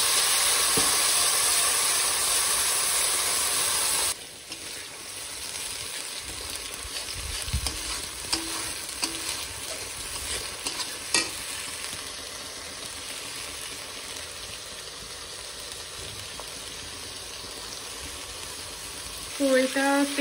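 Whole garam masala and onion paste fry in hot oil with a steady broadband sizzle, loud at first and then softer, with scattered stirring scrapes throughout and no talk.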